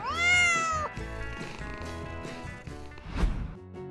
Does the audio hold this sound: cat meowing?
yes